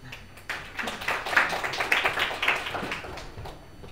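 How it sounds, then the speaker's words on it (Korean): Students in a classroom clap together, building from a few claps into a brief, uneven round of applause that fades toward the end. "박수 쳐주세요"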